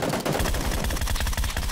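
Automatic gunfire in the shooter game PLAYERUNKNOWN'S BATTLEGROUNDS, a loud rapid burst of evenly spaced shots firing continuously for under two seconds.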